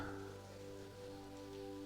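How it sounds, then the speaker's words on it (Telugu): Steady rain falls in a constant, even hiss, with a faint low hum running underneath and no voices. "ఎందుకంటే ఆ వర్షం సౌండ్ వినిపిస్తుంటుంది కదా."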